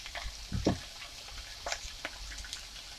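Pak choy stir-frying in a pan for a chicken egg noodle stir fry, a low close sizzle broken by a few rustling stirs and soft clatters, with no talking.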